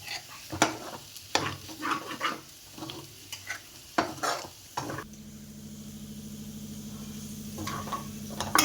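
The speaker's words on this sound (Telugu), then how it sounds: "పసుపు వాసన పోయేంత వరకు కొద్దిసేపు ఫ్రై చేద్దాం, ఒక 1 మినిట్ అట్లా" Turmeric frying in a pan for a drumstick and fish curry, with close spoon stirring and scraping over a sizzle that settles into a steady, louder hiss partway through, no talking.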